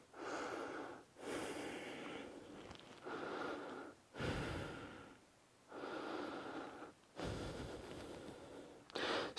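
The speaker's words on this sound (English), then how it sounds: "Let's keep breathing." Deep, slow breaths during a hip and groin stretch, six or so long inhale and exhale cycles, each a few seconds of airy rushing sound, close and alone with quiet gaps between.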